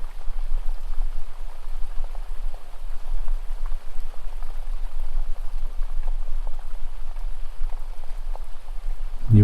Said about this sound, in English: You begin to hear the sound of the water, the gentle flowing sound along the edge of that river